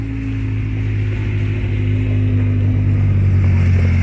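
Several motorcycles circle nearby at a campground with showers and Wi-Fi, a steady loud engine drone and rumble that swells slightly as they pass, with no talk.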